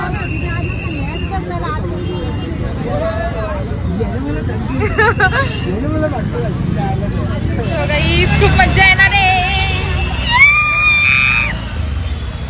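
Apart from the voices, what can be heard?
crowd hubbub at a village fair (jatra)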